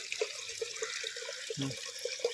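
Water gushing and splashing steadily out of an overflowing borewell after heavy rain, with small gurgles and drips, fairly quiet and close, no talking.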